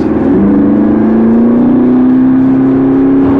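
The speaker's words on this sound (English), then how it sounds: "The exhaust note is extremely beefy, the throttle response is instant, and as you can hear, it's just oral bliss." A McLaren MP4-12C's 3.8 litre twin-turbo V8 revs and holds a deep, loud, steady exhaust drone that rises slightly in pitch, close by.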